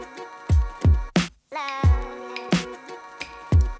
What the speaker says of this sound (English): So when you get the sample and the drums together, it sounds something like this.